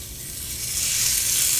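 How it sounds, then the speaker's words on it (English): Ground beef sizzles loudly in hot olive oil in a cast iron pan, a bright crackling hiss that builds and holds steady, close up. "we're going to get started here with our ground beef. And this is going to sizzle."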